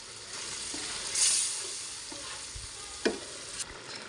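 Slit green chilies hit hot oil in a pan with fried shrimp, giving a steady close sizzle with a louder hiss burst near the start and a few utensil clicks and scrapes.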